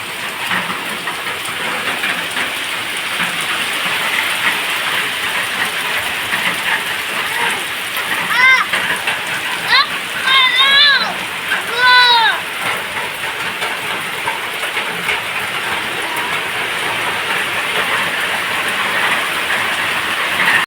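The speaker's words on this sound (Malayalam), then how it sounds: "അപ്പോൾ കണ്ട് നല്ല പെരുമഴയാണ് കേട്ടോ." Heavy downpour drumming steadily on surfaces for the whole stretch, a dense, loud hiss, with a few brief bird-like chirps rising above it midway.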